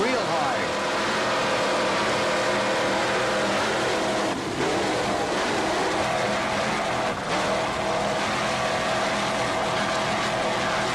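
Offshore racing powerboat engines on a Carrera hull, running hard during the 1986 Islamorada Budweiser 100 race in Florida, a loud continuous roar with wind and water noise, heard close throughout without a break.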